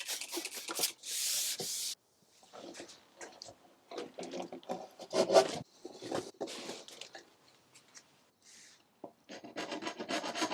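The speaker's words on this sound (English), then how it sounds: "I'm going to wipe them with water just to deactivate the oxalic acid" Damp cloth rubbing and scrubbing over pressed wood panels during a furniture restoration, quiet close swishing strokes in short irregular bursts separated by pauses.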